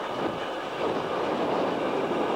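A hand-pumped rail handcar rolls along a railway track during a handcar rally, giving a steady loud rumbling roll of wheels on rails with a faint rhythmic clatter and no talking.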